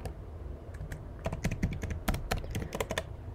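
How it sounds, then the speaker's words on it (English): Typing on a computer keyboard while entering a subtraction question into a Python shell, sparse keystrokes at first, then a quick irregular flurry of close, crisp clicks with no talk. "let me type in a question"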